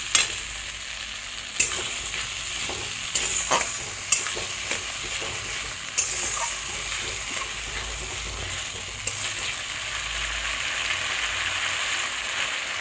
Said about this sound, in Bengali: আলু আর টমেটো ভাজা ভাজা করে নেওয়ার পরে এখানে আমি ওই মশলাটা দিয়ে দেবো।